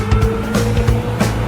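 A toy sand truck rumbles in with a loud, close motor-like drone that rises and falls in quick pulses.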